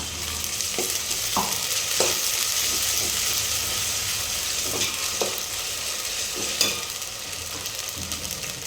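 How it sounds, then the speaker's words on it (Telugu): Ginger garlic paste fries in a pan for Guntur dalcha, a steady close sizzle broken by intermittent scraping stirs and a few clinks of a spoon. "అవి ఫ్రై అవ్వనిద్దాము ఇప్పుడు అల్లం వెల్లుల్లి పేస్ట్ వేస్తున్నా"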